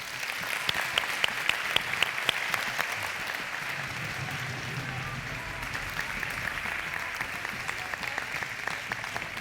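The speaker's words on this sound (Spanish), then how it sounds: "Un aplauso para Miguel." Audience clapping at a traditional costume festival in Zamora, Spain, with a few distinct sharp claps at first that merge into sustained, fairly soft applause from a seated crowd.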